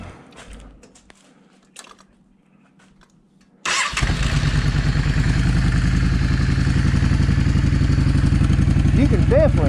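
A Yamaha V Star 650 motorcycle with a carburetor problem cranks briefly after quiet handling noises, then fires and settles into a loud, steady, close idle that continues to the end.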